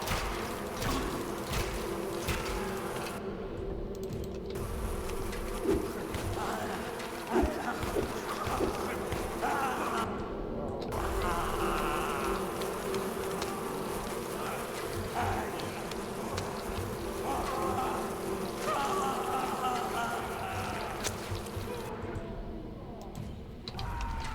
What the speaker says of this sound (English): these bees keep absolutely ruining my day